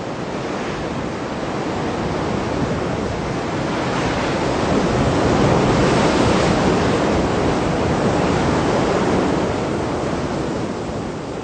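Ocean surf breaking along a rocky Moroccan fishing coast, a continuous loud wash of foam and spray that swells in the middle and eases again, with wind mixed in and no voices.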